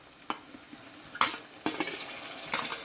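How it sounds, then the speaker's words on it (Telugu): Fenugreek, coriander, onion and green chilli frying in hot oil, with soft sizzling broken by a few sharp stirring scrapes of a utensil against the pan, close and fairly quiet. "కొత్తిమీర మెంతి కూడా వేసి మెంతి ఫ్రై అయ్యేదాకా వెయిట్ చేయాలి"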